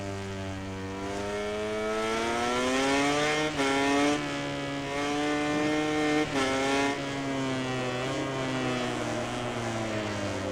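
Honda racing motorcycle in MotoGP 19 video game, a loud, continuous high-revving engine whine that rises and falls through gear shifts and corners, close and alone.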